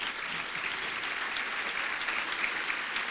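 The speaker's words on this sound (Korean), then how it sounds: "박수" Applause from a gathered audience at a religious sermon, a continuous even wash of many hands clapping, fairly soft and without voices.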